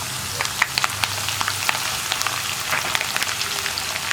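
Green chillies and ginger frying in hot oil for mango pickle, a close, steady crackling sizzle with sharp popping spatters throughout.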